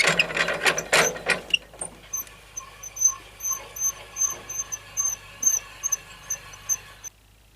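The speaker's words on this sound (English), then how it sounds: "So I'll grab my little handy handle here, and we'll try and crank that up." A hand crank ratchets to raise a timber, giving a series of crisp clicking bursts at an uneven rhythm. Some louder handling noise comes first, and the clicks are close and alone, with no talk.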